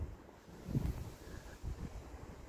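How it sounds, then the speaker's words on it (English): Gusty night wind blows past a garden magnolia bush, rushing in uneven low swells with microphone buffeting, fairly faint and with no one talking. "the wind really isn't very nice tonight."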